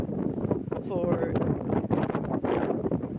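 Strong wind buffets the microphone on the windy summit of Gairich, a constant close roar with gusty surges throughout.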